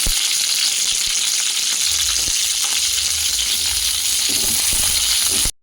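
Green chillies frying in oil in a kadai give a loud, continuous close-up sizzle with a few faint clinks. The sizzle cuts off abruptly at the end.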